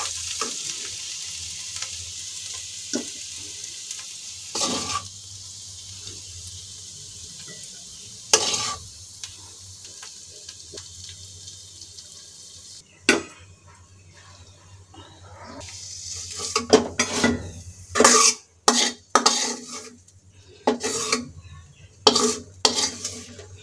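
Fried vegetable bhaji being stirred and scraped from a pan with a utensil, soft sizzling under the first part, then a burst of clattering scrapes and knocks near the end.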